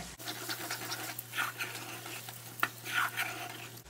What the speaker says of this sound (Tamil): இது ஒரு கலக்கி விட்டுறலாம்